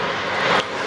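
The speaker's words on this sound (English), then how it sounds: "Sorry about the aeroplane noise again." An aeroplane passes overhead above a vegetable garden, a steady broadband engine roar that swells briefly toward its loudest point and then eases back, continuous throughout with no voices.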